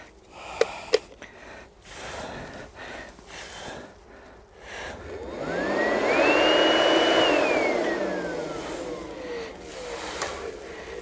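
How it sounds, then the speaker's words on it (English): A hand pump puffs insecticide into a wasp nest: a rising and falling hiss swells for several seconds, close and fairly loud, after a few soft clicks and handling noises. "this time I'm going to actually pump this one actually inside the nest"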